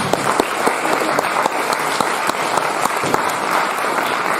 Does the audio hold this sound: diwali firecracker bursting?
no